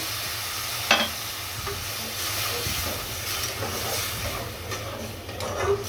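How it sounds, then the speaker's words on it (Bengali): Chicken masala sizzling and hissing steadily in a hot pan after a splash of water is added to keep the spices from burning, a close, continuous frying crackle with a brief louder burst near the start. "মশলাটা যাতে পুড়ে না যায় একটু পানি দিয়ে দিচ্ছি।"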